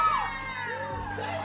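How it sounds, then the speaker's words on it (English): A small group of people cheering and whooping together at a celebration during the Coachella festival, with excited shouting close by and some voices rising above the noise. "We got the cutest video of everybody cheering for us"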